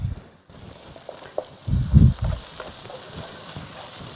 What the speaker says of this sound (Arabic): بصل لحتى يتقلى شوي